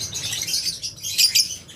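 A breeding pair of misty mutation lovebirds in an aviary setup gives quick, high chirps and tweets in short clustered bursts, close by and moderately quiet.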